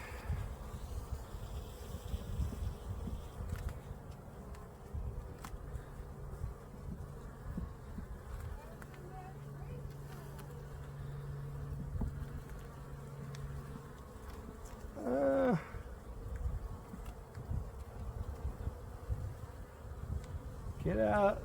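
Honeybees drone steadily around an open hive during a beekeeping inspection, a continuous close buzz throughout with individual bees passing louder near the end, and no talk.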